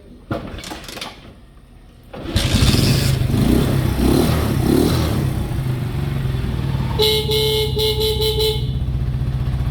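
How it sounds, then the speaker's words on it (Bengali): A used registered motorcycle: a few faint clicks, then the engine fires after about two seconds and settles into a loud, steady idle, with a brief horn-like honk later. "ইঞ্জিনের সাউন্ড কিন্তু যথেষ্ট পরিমাণে ভালো আছে।"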